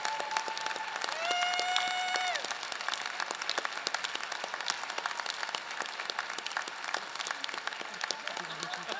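A law school convocation audience gives a long ovation for Dean Baines, a dense, sustained roar of clapping with sharp individual claps standing out and brief cheers and voices rising early on.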